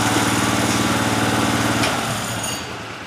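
The engine of a 1927 Hudson car runs steadily and loudly up close, holding a constant buzzing drone that eases slightly toward the end.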